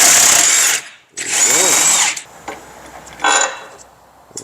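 Power drill or impact tool spinning out motor mount bolts on a Chrysler PT Cruiser during clutch removal, two loud whirring bursts close by, then a shorter burst after a quiet pause.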